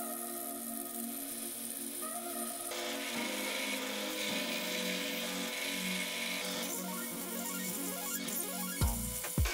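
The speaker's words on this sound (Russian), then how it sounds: "надо зажать болт в патроне сверлильного станка или дрели и обтачивать эти ролики" Grinder rollers being turned on a bolt clamped in a drill press chuck, a steady whirring, rubbing tone running continuously with no voices, ending in a few louder knocks.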